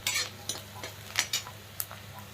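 A spoon stirs chopped carrots and onion frying in a pan, giving soft scraping clicks and light scrapes over a low steady sizzle, close by and without talking.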